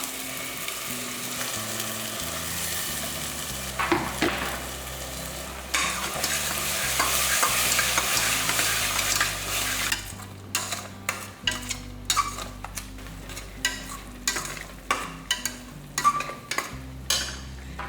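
Onions sautéed with a ground spice paste sizzle in a frying pan, then a spoon scrapes and clinks in a steady series of sharp strokes across the second half, with no talking.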